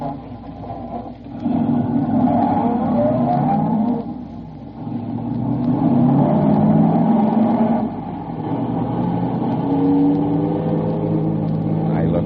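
A car engine hums and revs as the vehicle drives off in a radio drama, the motor sound running steadily beneath voices talking.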